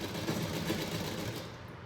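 A sewing machine runs a steady, close mechanical whir through the whole short stretch as it stitches a folded edge of suit fabric beside buckram, with no talking.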